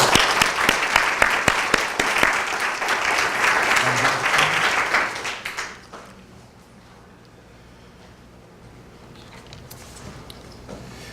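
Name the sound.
audience applause welcoming two guests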